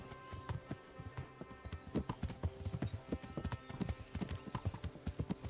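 Horse hooves clip-clop steadily during riding in the medieval game Kingdom Come: Deliverance, a brisk, rhythmic beat of close, distinct hoofbeats over soft background sound.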